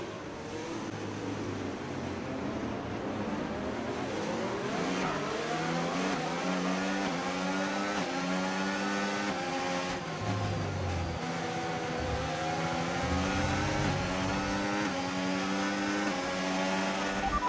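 A Formula 1 car in the F1 25 racing game at the Chinese Grand Prix screams through its gears, engine pitch climbing and dropping with each upshift and corner, a loud continuous onboard whine.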